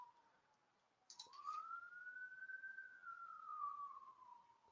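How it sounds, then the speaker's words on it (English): A single siren wails faintly in the distance, its tone slowly rising and falling over a quiet background with a few soft clicks. "you guys can probably hear that siren in the background."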